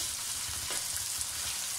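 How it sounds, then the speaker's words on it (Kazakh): Meat fries in a kazan for Kazakh palau (plov), giving a steady, close sizzling hiss that holds at an even level for the whole stretch, with no voices. "етті қуырып жатқан кезде"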